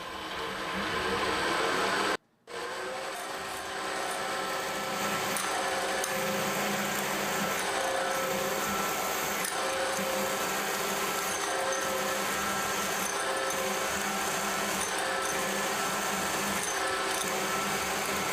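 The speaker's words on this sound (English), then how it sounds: "I'm going to take my fixture, I'm going to drill a 3/8 hole" A drill bores a 3/8 inch hole through a workpiece clamped in a vise, a steady close motor whine with grinding texture, briefly stopping near the start before running on continuously.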